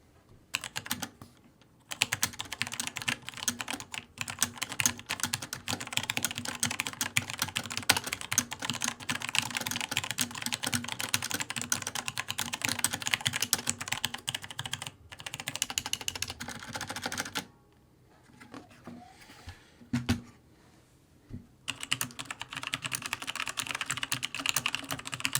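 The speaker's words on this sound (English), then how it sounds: "here is a quick back-to-back sound test of the tactile and linear RomerG Switch." Someone types rapidly on a Logitech G513 Carbon keyboard with tactile and linear Romer-G switches and ABS plastic keycaps, giving a dense, close clatter of keystrokes in bursts separated by short pauses.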